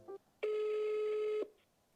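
A landline telephone ringback tone while calling a landlord: one steady, moderately loud tone lasting about a second, preceded by a short click-like beep, then quiet.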